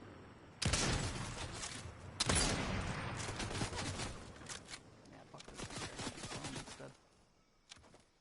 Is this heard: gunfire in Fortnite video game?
yes